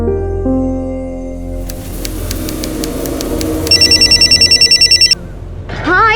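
A telephone rings in a home during a Hindi TV drama, first as a dial tone, then a rapid, loud, close trill that repeats in quick bursts before stopping, with no talk over it.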